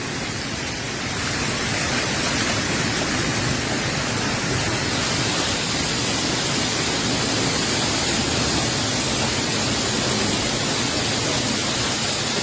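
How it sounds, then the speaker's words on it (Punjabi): Dense, steady pattering roar of hail drumming on a fiber roof, continuous and loud with no pauses. "ਕਿ ਗੜਿਆਂ ਦੀ ਆਵਾਜ਼ ਹੈ ਉੱਪਰਲੇ ਪਾਸੇ ਫਾਈਬਰ ਦੀ ਛੱਤ ਦੇ ਉੱਤੇ"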